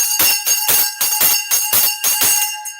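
A bright bell rings loudly and close up in about nine quick, evenly spaced strikes, each tone ringing on sustained between hits, used to open a parliamentary-style session, with no voices over it.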